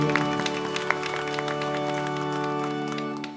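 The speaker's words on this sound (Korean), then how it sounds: "우리 주님께 영광의 박수를 드리겠습니다." A congregation at a Christmas Eve Sunday service in a Korean church claps in praise, a close continuous patter of hands layered over sustained held music tones.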